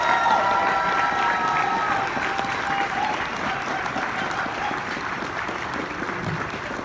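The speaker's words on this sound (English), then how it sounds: "give them a round of applause" An audience at a BABSCon convention opening ceremony gives a sustained round of applause, dense loud clapping mixed with some cheering that holds steady and eases slightly toward the end, with faint voices underneath.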